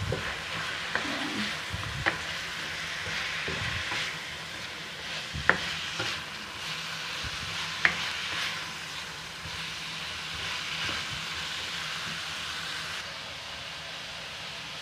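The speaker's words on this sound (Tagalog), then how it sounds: "pwede na natin igisa din itong carrots" Carrots for japchae stirred and sautéed in a pan after the beef, with a steady low sizzle, scraping of a stirring utensil and a few sharp clicks against the pan.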